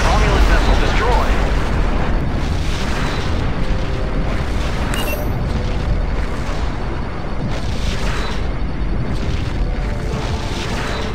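A Romulan vessel explodes in the space combat game Star Trek Legacy, a loud rumbling blast that rolls on and decays over several seconds, with a voice speaking over it.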